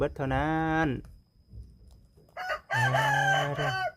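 A rooster crows loudly twice, a long drawn-out call then a second one, from a flock of egg-laying hens and cockerels in a yard, with soft clucking between the calls.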